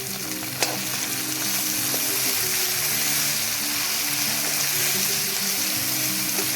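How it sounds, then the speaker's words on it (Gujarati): Chopped tomato sizzles and fries in hot oil for spiced vaghareli rice: a steady, close, crackling sizzle that runs throughout, with a small clink near the start. "સરસથી હવે આપણે એને તેલમાં તળવા દઈએ છીએ"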